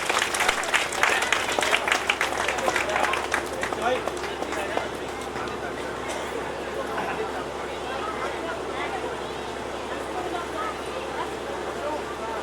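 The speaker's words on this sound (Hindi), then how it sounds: "एक बार सुशील जी के लिए जोरदार तालियां।" Applause from a crowd at a Hindu religious ceremony marking the completion of a Shrimad Bhagavat recitation and puja. The clapping is dense and sustained, loudest at the start and slowly thinning, with crowd murmur beneath it.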